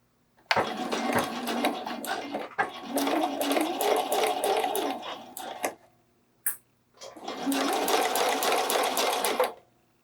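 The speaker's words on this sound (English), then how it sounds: "I'm going to sew my 1/4 inch seam carefully along this pinned edge." A sewing machine stitches a quarter-inch seam along a pinned edge of bralette fabric, humming in two long, steady runs split by a short pause and a single brief whir.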